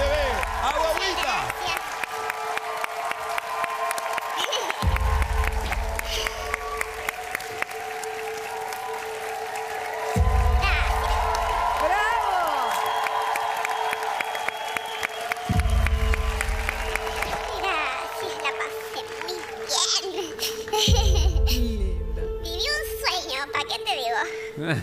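A studio audience gives a giant standing ovation at the grand finale of a masked singing competition, sustained clapping and cheering under music and a host talking, swelling in repeated waves.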